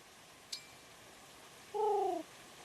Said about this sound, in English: We found a pigeon.